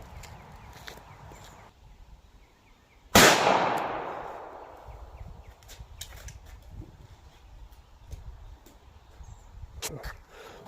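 A single sharp, loud Glock pistol shot firing a .380 ACP Hornady XTP round into gel, ringing and decaying over a couple of seconds amid quiet outdoor background and small handling noises.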